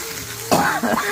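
A person coughs sharply from pungent fumes while cooking freshly caught river fish outdoors, one close, harsh cough and a shorter follow-up over the faint hiss of frying.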